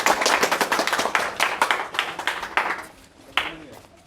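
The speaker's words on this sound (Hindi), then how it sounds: "ताली बजाओ" A group of people clapping at a Veer Sainik training centre: loud, close, sharp claps in quick rhythmic bursts that thin out and fade toward the end, with occasional voices in the background.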